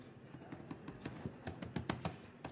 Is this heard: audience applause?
no